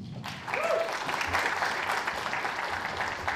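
An audience claps warmly as a guest is welcomed onto a stage at a talk event, the applause starting abruptly and holding as a steady, moderately distant wash of many hands, with a faint whistle-like tone early on.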